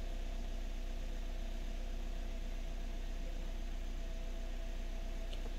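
A Suzuki Swift engine idling slightly high at just over 900 rpm while an O2 sensor fault is checked: a steady, even low hum with a faint mechanical drone, unchanging and close throughout.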